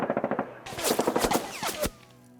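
Submachine guns fire in a tabletop wargame battle, with a rapid burst of close automatic shots followed by a denser, louder volley of overlapping fire that cuts off abruptly.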